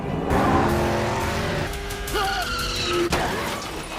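Car chasing a reckless motorcyclist in a John Wick film, engines roaring close with tyre squeal and skidding, pitch rising in bursts before a sharp impact-like crack near the end.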